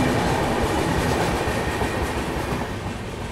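The 12648 Kongu SuperFast Express, an Indian Railways premium train, rumbles along at speed with a loud, steady roar and faint wheel clatter, heard from on board without talk.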